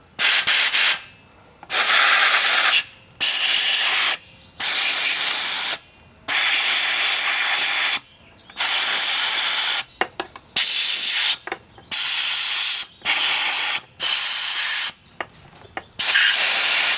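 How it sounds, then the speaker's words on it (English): Compressed air blasts blowing out screw holes on a 1979 Johnson 6 hp outboard motor, a series of about ten loud, close hissing bursts of one to two seconds each, separated by brief silences. "A little bit of air. Clean out the screw holes."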